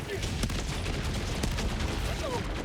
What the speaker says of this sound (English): Strafing runs.